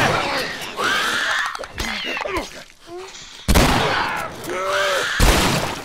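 Sharp bursts of gunfire in The Last of Us Remastered on PS4 crack in a busy, noisy mix, with scattered shots and strange electronic warbles between them, amid clicker enemies.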